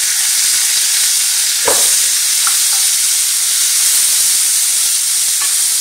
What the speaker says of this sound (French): nous allons prendre les champignons émincés, des champignons frais, qu'on va mettre dans la poêle.